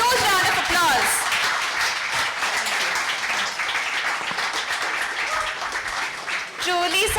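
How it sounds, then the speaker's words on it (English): Audience applause for the speakers at a session on Himalayan folk tales, a lively burst of clapping that swells then thins, with voices rising over it near the start and end. "Can we give our speakers a huge round of applause?"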